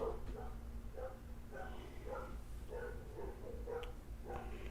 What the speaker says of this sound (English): It's just dogs next door.